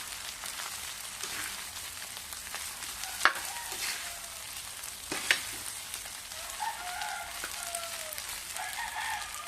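Leftover rice is stir-fried into fried rice, a soft, steady sizzle with occasional scraping stirs and faint clinks in a quiet home kitchen.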